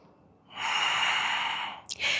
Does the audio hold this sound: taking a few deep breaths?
yes